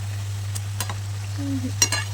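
Kapnya snack dough fries in a pan of hot oil on a gas stove turned to full flame, giving a soft sizzle with a few sharp utensil clinks over a steady low hum.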